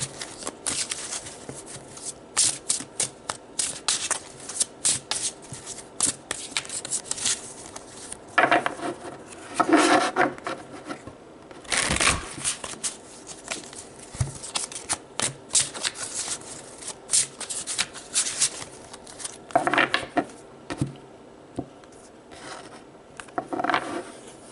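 A deck of tarot cards is shuffled by hand in a quiet room. The cards give soft, papery riffles and flutters in uneven bursts that come and go close up, with no voices.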